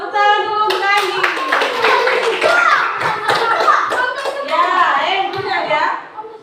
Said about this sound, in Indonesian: Tepuk tangan dulu untuk Anggi.